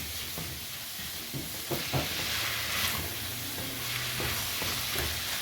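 Food sizzles steadily in a cooking pan with tomato paste while making butter chicken, with intermittent scraping stirs over the continuous frying hiss.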